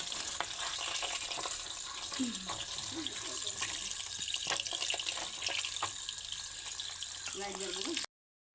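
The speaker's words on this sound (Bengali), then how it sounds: "পটলগুলো দেখো ভালো করে ধুয়ে নিয়েছি পরিষ্কার করে" Pointed gourds (potol) being rinsed clean under a running kitchen tap, a steady broadband rush of water splashing in a sink throughout, with brief faint voice-like tones in the background.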